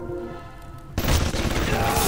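A turret in Bioshock opens fire, a sudden burst of loud gunfire cutting in after a quieter tonal passage and continuing as a rattling fusillade to the end.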